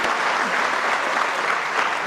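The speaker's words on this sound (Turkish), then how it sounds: "Bakın hele böyle alkışlıyor" Steady crowd applause at a Turkish folk minstrel (aşık) performance in Çorum, continuous and even throughout with no talk over it.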